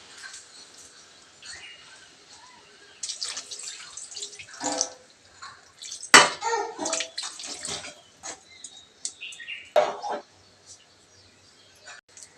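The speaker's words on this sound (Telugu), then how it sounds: "ఇప్పుడు కానీ నీళ్ళు వేసుకుందామండి." Water is poured into a pan of village-style jackfruit seed curry, making uneven splashing and bubbling bursts that swell and fade over several seconds against a quiet background.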